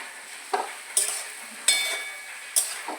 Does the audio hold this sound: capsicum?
yes